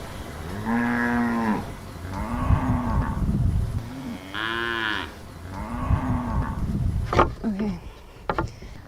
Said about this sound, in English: here is our cow, one of our cow-calf herds